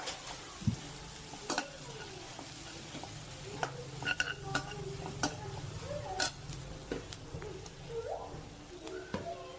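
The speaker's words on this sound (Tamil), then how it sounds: "இப்போ கொஞ்சம் உப்பு போட்டு நல்லா ஃப்ரை பண்ணிக்கலாம்" Food fries with salt in a pan during Indian-style rice cooking, a low steady sizzle beneath sharp metallic clicks and scrapes of a spoon stirring, fairly quiet and close.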